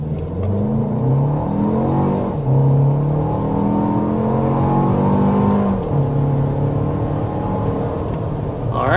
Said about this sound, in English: there is our acceleration to 60 miles per hour with the Grand Highlander.